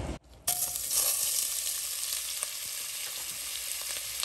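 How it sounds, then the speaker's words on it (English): Loud, steady sizzling of sausages frying in hot oil, starting abruptly after a brief quiet moment and continuing with crackles and pops. "You hear that sizzle?"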